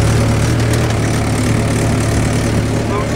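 A tractor in low second gear pulls a cultivator through heavy, hard field soil, its engine droning loud and steady throughout with a deep rumbling tone.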